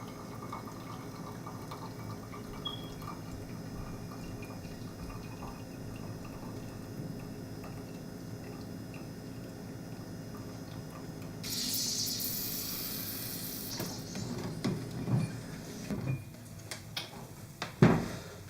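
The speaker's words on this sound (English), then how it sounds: "start slowly putting pressure on the plunger. This should take 10 to 15 seconds. And you'll know it's done because you will hear a hiss at the very end" An Aeropress coffee maker's plunger pressed slowly down, a quiet low gurgle building over several seconds before a brighter hiss of air and liquid bursts in near the end, with a few faint knocks after.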